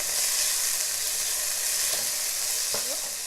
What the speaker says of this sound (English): Fry this for 1 minute.